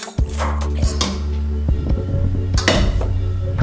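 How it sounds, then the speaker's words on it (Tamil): Protein salad with capsicum and peas being mixed in a bowl: loud, close clanking and scraping of a spoon against the dish, steady through the clip with a few sharper knocks. "இப்போ எல்லாத்தையுமே மிக்ஸ் பண்ணலாம்"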